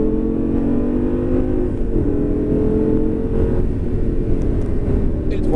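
A Lamborghini Gallardo LP 560 accelerates on the La Ferté-Gaucher circuit, its engine rising in a loud, sustained roar with rumbling harmonics close by, while a person talks over it.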